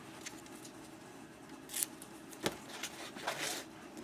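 Scissors cut a piece of Heat and Bond fusible adhesive for a quilting project, making a few faint, quiet snips against a soft room background, with no talking.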